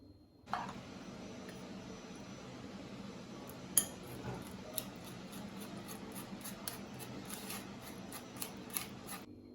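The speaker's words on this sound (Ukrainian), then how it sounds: "Це все зараз перемішаю, відправлю на плиту" A spoon scrapes and clinks against a metal saucepan of jam in light, irregular taps, with soft stirring noise running beneath.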